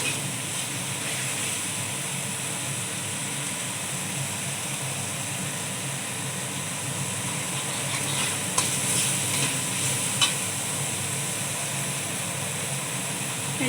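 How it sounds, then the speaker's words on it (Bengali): Spice masala is stir-fried in a pan with a steady, close sizzle and occasional stirring scrapes, and no voices. "মশলাটা ভালো করে কষাবো।"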